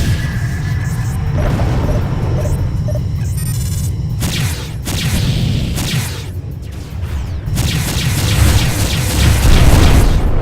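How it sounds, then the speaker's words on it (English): A spaceship explodes in a Freespace 2 space battle, loud booming crashes and bursts rolling one after another over a dense rumbling background, with several sharp blasts in quick succession. "The NTC Cato has been destroyed."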